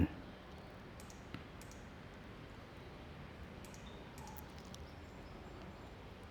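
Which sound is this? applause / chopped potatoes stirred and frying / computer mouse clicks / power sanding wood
computer mouse clicks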